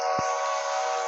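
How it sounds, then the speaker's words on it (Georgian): A train whistle in a zombie video game, a loud sustained steady horn-like blast held for over a second, with a brief low thump near its start. "ბიჭო მატარებლის ხმა."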